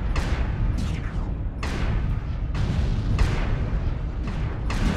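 A Shadowhawk mech in MechWarrior Online fires its weapons non-stop, producing a steady series of loud, booming shots roughly every second over a constant low mechanical rumble.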